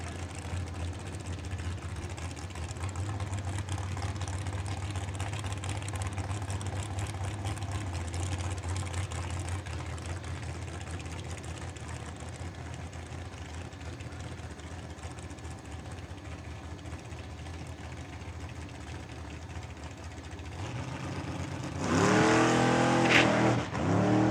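A 1932 Bantam Altered drag car makes a solo pass at a drag strip, its engine a steady loud drone for about twenty seconds from a distance before a sharper, louder roar rises near the end.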